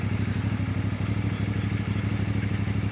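A CLC450 motorcycle engine idles close by in a steady rapid thumping putter, loud and unbroken, with no voices over it.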